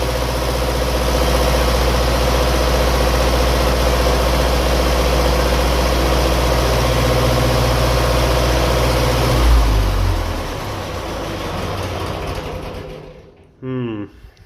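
A heavy 1957 Ferguson FE35 tractor engine running on TVO drones steadily at close range, then its note drops and winds down, leaving near silence with a brief mechanical clatter at the end.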